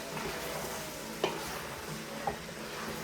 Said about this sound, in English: Now our onion is all sweating in there